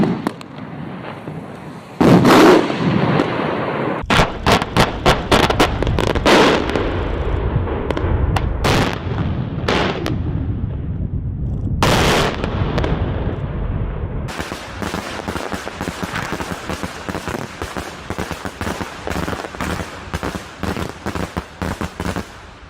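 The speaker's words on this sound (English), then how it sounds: "this is what daytime fireworks look like" Daytime fireworks explode outdoors in a long, dense barrage of sharp cracks and booms, some in rapid crackling bursts, loud and continuous with a sustained rumbling roar underneath.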